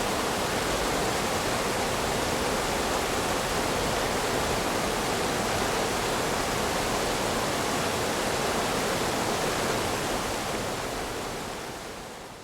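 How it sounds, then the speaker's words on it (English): Flash-flood water surges down a river carrying debris and boulders, a dense, unbroken roar of rushing water that holds steady and loud throughout before easing slightly at the very end. "A wall of water surges down the river, carrying huge amounts of debris with it."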